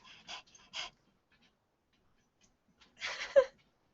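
A dog breathes and pants in short, breathy bursts, a few quick huffs, then a pause, then a louder snorting burst, close by in a quiet room.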